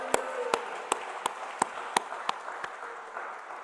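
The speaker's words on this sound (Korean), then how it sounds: "하나님께 영광의 박수드립니다." At a prayer meeting at Osanri Prayer Mountain, a congregation claps in a slow, evenly spaced series of about nine sharp, fairly distinct claps over a quiet room murmur.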